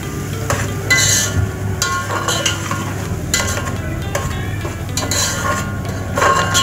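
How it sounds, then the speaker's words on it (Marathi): A spoon stirring ground masala paste into a spicy tribal-style jungle crab curry in a pan, steady scraping and soft sizzling with repeated clinks against the metal, no talking. "आता वाटण आपल्याला व्यवस्थित असं मिश्रित करून घ्यायचं याच्यामध्ये मसाल्यामध्ये आपल्या"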